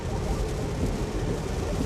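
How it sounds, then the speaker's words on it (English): A steady, dense rumble of wind and road noise fills the cabin of a Tesla car driving in the rain, holding constant throughout with no distinct events. "What you do hear is the air, and you do hear the road noise."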